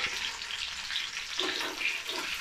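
Large garlic pieces frying in a pan with greens (fenugreek and dill) for a potato sabzi, giving a steady, close hiss of oil sizzle throughout with no talking.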